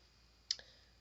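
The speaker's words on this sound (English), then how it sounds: "hit backspace on your keyboard and it deletes things" A single crisp click of a keyboard's backspace key being pressed, faint and close, with a tiny secondary tap as the key returns, set against near silence.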